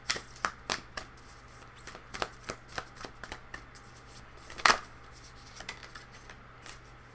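Affirmation cards being shuffled by hand, a steady run of soft riffling snaps with one sharper clack midway, close and fairly quiet with no voices over it.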